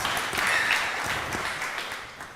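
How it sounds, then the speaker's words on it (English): A conference audience at a Finnish-U.S. trade and investment event applauds two business guests as they are welcomed, a steady wash of clapping heard at moderate distance with no talk. "Another warm round of applause"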